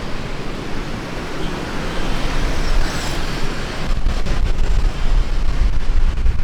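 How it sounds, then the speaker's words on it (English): Steady, loud wind rumble buffeting outdoors in Vietnam, a broad roaring wash that gusts stronger midway and continues without pause. "It's a little windy, and I don't want wind to destroy this epic moment."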